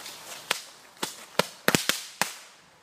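Old firecrackers go off in six sharp, dry bangs at uneven intervals, two of them close together, each ending in a short decay with no talk.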